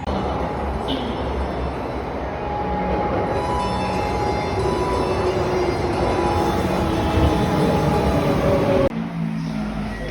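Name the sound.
subway train arriving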